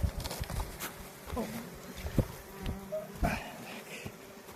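Honeybees buzz steadily in a dense, close swarm inside a hive during a spring inspection, with a few sharper wingbeat passes and light knocks against the hum.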